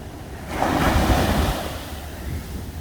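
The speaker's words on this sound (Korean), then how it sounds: "자 파도 치는 모습을 촬영해 보도록 하겠습니다" Ocean waves break at Gyeongpo Beach in Gangneung, a loud surging wash of surf that swells and slowly fades, with wind noise on the microphone.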